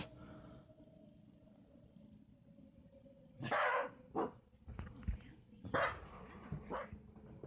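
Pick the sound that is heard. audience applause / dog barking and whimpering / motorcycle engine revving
dog barking and whimpering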